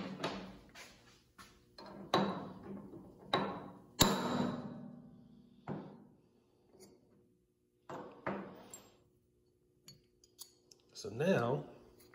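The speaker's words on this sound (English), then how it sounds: "give it a good whack with the hammer, right on top of the center punch" Sharp metallic strikes of a hammer on a center punch ring out one at a time at irregular intervals, each with a brief metallic ring, close by and fairly quiet.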